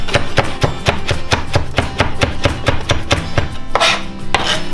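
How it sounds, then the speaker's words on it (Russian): A knife chops parsley on a board in quick, even, loud strokes, about four per second, each a sharp close thud, with a short soft scrape near the end. "Режем петрушечку с вами."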